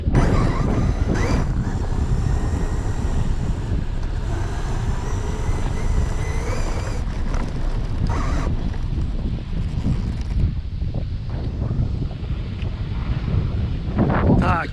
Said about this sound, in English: I cannot believe the wind is whipping as hard as it is today.